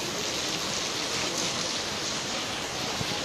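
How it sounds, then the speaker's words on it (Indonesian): Heavy rain pours steadily outdoors at the Hagia Sophia, a dense, even hiss of falling water filling the scene without pause and with no voices over it. "Ya, hujannya sangat deras."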